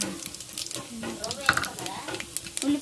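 Seeds sizzling and crackling in hot oil in a pan while upma is being prepared, a steady frying hiss with scattered pops and stirring scrapes close by.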